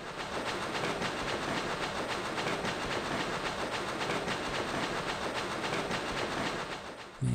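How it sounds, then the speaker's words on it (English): A fast-moving train in the Echo Night video game rumbles steadily, with a continuous rolling roar and rhythmic clickety-clack of wheels over rail joints, loud and unbroken with no talking. "We are on a speedily moving train."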